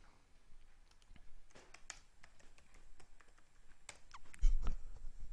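A password is typed on a computer keyboard during a Windows Server 2008 login, producing scattered light key clicks and taps of uneven rhythm, with a louder cluster of presses near the end and no talking.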